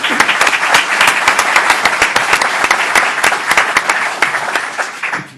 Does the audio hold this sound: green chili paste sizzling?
no